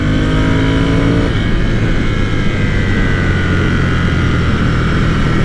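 A Ducati Scrambler Cafe Racer motorcycle's engine roars loud and close while riding, a steady throbbing drone that shifts pitch slightly early on, then holds a constant pull.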